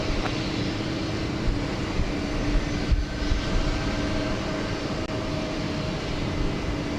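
A United airliner rolls for takeoff on runway 15 right at Houston Intercontinental, a steady, distant broadband jet roar that holds evenly throughout.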